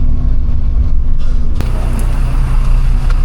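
Steady low rumble of a bus ride in Gibraltar, a constant engine drone and road noise from inside the cabin, loud and continuous with a faint rattle partway through.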